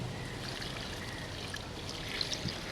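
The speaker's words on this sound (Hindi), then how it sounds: "पानी शामिल करेंगे इसमें।" Water pours steadily into a pot of haleem with fried brown onions, a continuous close splashing trickle lasting a few seconds with no one speaking.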